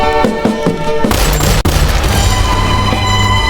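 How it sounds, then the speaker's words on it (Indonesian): Loud, sharp gunshots in a film, a rapid cluster of cracks followed by booming reverberant blasts over dramatic background music. "Di mana Zoller membalas dengan 3 kali tembakan juga"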